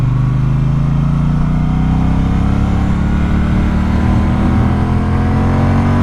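A Triumph Speedmaster motorcycle engine drones loudly and continuously at night. Its pitch climbs gradually as the bike accelerates in first gear, and no one talks over it.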